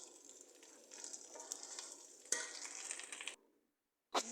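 Vegetables frying and being stirred in a pan for vegetable pulao, a steady close sizzle with scraping stir strokes, then a brief pause before one more sharp clatter.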